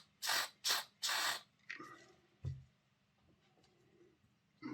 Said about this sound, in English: we'll get some contact cleaner down in there